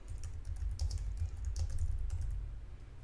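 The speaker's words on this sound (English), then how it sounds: "And what you want to do is start typing." Rapid typing on a computer keyboard, a continuous run of close, crisp key clicks over a steady low hum, with no speech.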